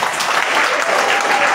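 A crowd claps steadily, a dense wash of hand claps with a murmur of voices underneath, brief and moderately loud.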